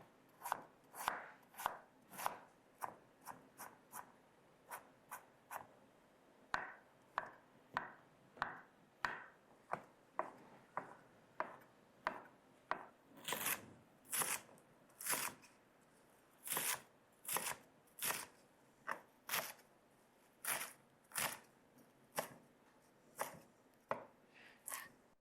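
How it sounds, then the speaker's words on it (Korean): A knife finely minces vegetables such as fresh chamnamul on a cutting board for toddler meals, sharp rapid chops in uneven bursts, close and clear, with no speech. "먼저 야채는 아이들이 먹기 좋은 크기로 잘게 다져줄게요."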